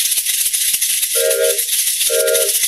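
A children's hand shaker is shaken in quick, steady bursts to mimic a train's rhythm, a bright continuous rattle close up, with two short tonal blips partway through.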